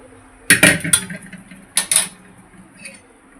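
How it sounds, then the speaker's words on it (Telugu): Chicken pieces dropped into a simmering curry in a metal cooking pot: a few sharp metallic clinks and clatters of a utensil against the pot in two short bursts, close up, followed by quieter faint rattling. "ఇప్పుడు నేను చికెన్ అయితే వేస్తున్నాను"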